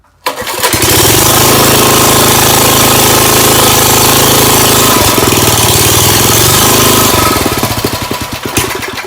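The engine of a 1974 Ford rototiller catches on the pull and fires up into a loud, ragged, fast-chugging run, very close and unbroken for about eight seconds before it sputters briefly. No one speaks over it.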